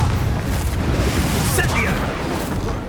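A Confringo blasting spell explodes in the Hogwarts Legacy video game, a loud, dense, continuous booming roar filling the whole moment, with a brief crackling burst partway through.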